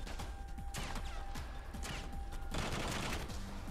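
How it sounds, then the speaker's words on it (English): Gunfire in a video game firefight from The Bourne Conspiracy, with dense bursts of shots and sharp cracks over a constant loud background of game noise, continuing for several seconds. "This is gonna eat up all my time with this firefight."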